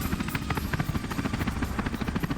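A helicopter in a movie scene gives a loud, close, rapid rhythmic thumping of rotor blades, with a steady mechanical roar beneath the beats throughout.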